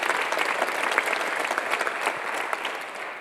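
Steady applause from a church congregation during a Sunday service, dense clapping that continues evenly throughout without pause.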